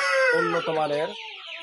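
Roosters kept for sale clucking close by, a short harmonic squawking call lasting about a second, loud and near with faint background noise.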